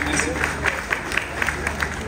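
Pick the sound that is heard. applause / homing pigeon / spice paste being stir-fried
applause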